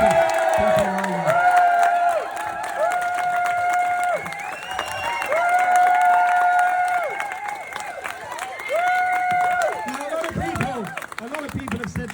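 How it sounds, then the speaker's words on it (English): At a badger cull protest outside Defra, a crowd claps and cheers outdoors, with loud sustained shouts and chant-like calls rising in repeated bursts over scattered applause. "I'd just like to call for a round of applause for Helen McDonald"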